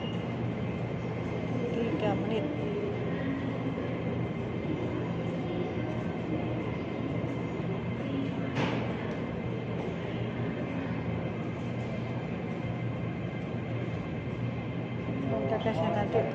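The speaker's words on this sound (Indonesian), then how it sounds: "Ini baru nyampe kereta nih, keretanya baru nyampe." A train pulling into a station, heard as a steady loud rumble and rolling noise that carries on throughout, with a brief metallic squeal midway, while a person talks over it.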